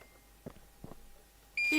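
A scanner beeps in the Plant Nursery Simulator video game, a sharp electronic tone that starts near the end after a couple of soft clicks, close and clear.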